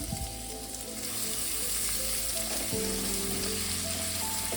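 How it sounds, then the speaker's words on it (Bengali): Three spoonfuls of chopped onion sizzle loudly in hot oil with fried whole spices while cooking Khulnar dim amoyaa, a steady dense crackle with a stirring scrape partway through and a low hum beneath. "ফোড়নটা আমার ভাজা হয়ে গেছে, এবার আমি 3 চামচ পেঁয়াজ দিয়ে দিলাম।"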